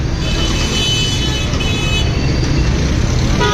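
A traffic jam on a busy Saddar street makes a loud, constant roar of engines and road noise close by, with occasional faint horn toots mixed into the din.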